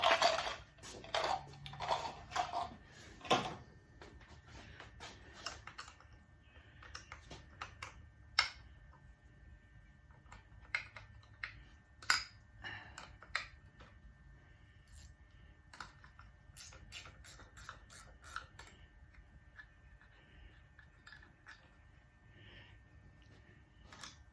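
A wrench working on the starter bolts of a Kohler Courage 20hp engine, giving scattered metallic ticks and clicks at an uneven rhythm with quiet gaps between them, near and fairly soft, with no talking.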